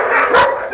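A dog gives a single short, loud bark at close range during an obedience training session while straining on its lead. No voices.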